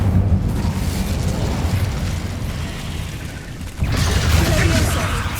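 Incendio fire spell cast in the Hogwarts Legacy video game: a loud, sustained roaring whoosh with a fresh fiery burst near the end, dense and close.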